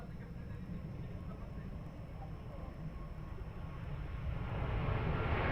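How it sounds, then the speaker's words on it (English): An Airbus A330 airliner departs Lisbon Airport, a steady broadband engine roar that holds for several seconds and swells louder toward the end, mixed with low rumble. "Airbus 330 is now departing"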